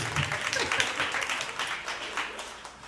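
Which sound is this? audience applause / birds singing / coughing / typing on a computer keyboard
audience applause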